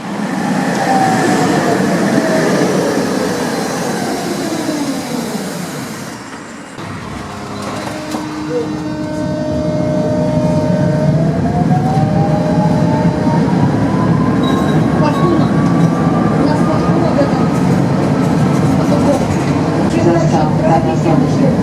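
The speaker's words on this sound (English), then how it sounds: "when this tram speeds up, it sounds like it's got a French classic DC pulsing drive" A Prague tram's traction motor whines as it accelerates, rising tones sweeping upward over steady rumbling rail noise, loud and close throughout.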